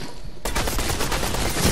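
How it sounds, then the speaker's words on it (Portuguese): Gunfire erupts in a Fortnite match after a brief near-silent moment: loud, dense, sustained bursts of rapid shots that keep going to the end. "Tá atirando nele lá, mano"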